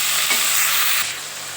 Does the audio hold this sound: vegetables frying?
yes